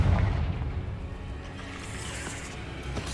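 A Confringo fire spell detonates in Hogwarts Legacy, a heavy booming blast that rumbles loudly at the start and then decays into a lingering low roar.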